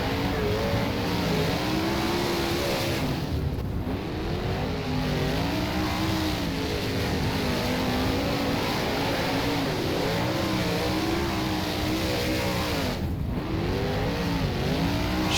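410 sprint cars race at Premier Speedway Warrnambool in the rFactor racing game, their engines roaring loud and steady with rising and falling revs as the pack runs close together.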